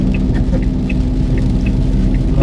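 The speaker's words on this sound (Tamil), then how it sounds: "சரியான ஹெவி ரெயினில் போயிட்டுருக்கோம்" Heavy rain drums steadily on a moving car, a dense hiss over the low engine and road rumble inside the cabin, continuous with no talking.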